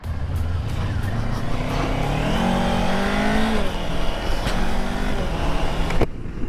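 A 2024 Kawasaki Ninja 500 rides off along the Pacific Coast Highway north of Malibu, its engine revving and climbing through rising gears, loud and steady under heavy wind rush, with a sharp knock near the end.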